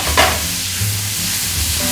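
Garlic sizzles in a hot pan for an Auvergne truffade, a steady close frying hiss broken by a brief stirring scrape.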